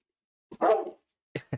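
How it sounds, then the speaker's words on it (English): Indoor dogs bark in short, sharp bursts: one strong bark followed a moment later by two quicker ones, close and loud against otherwise silent surroundings. "Excuse my dogs, they're protective."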